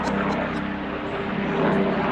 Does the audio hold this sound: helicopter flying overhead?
yes